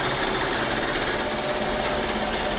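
A hat embroidery machine runs steadily with a dense, fast mechanical whirr and rattle, constant in loudness throughout, with no voices.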